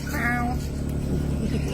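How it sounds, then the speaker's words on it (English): A cat meows once, a short whining cry near the start, over a steady low rumble like an idling vehicle, with a voice murmuring underneath. "y'all heard that meow?"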